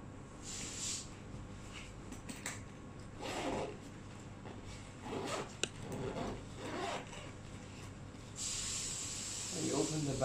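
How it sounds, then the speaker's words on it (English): A zipper opens on the carrying bag of a near-infrared photobiomodulation therapy helmet, giving several short raspy pulls close by, then a longer hissy zip near the end, with quiet handling noises in between. "When you open the bag, and here are the connection wires."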